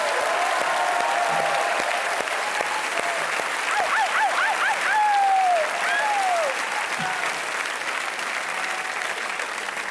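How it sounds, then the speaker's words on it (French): Studio audience applause after the last question of a televised French quiz game, a dense, steady wash of many hands clapping close by for the full length, with a few whistles and cheers rising over it midway. "Vous pouvez applaudir toutes ces questions"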